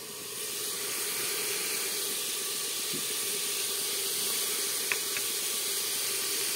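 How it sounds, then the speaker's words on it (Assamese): Steady, even hiss of spices and ginger-garlic paste frying in a pan, continuous and close, with a faint clink near the end and no talking. "মজাই লওঁ, মানে ভাজি লওঁ, ভাজি পেলাই অকণ মিলাই দিম।"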